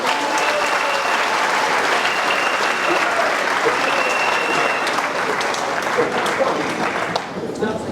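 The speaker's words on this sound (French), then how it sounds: "il faut encore applaudir le président Bédié" Crowd at a political rally applauding President Bédié, a dense, loud, sustained wash of clapping that carries on throughout before tapering off at the very end.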